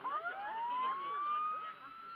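A wailing alarm siren on a model boat rises steadily in pitch and holds, loud and continuous over a low rumbling background, at a model boat show.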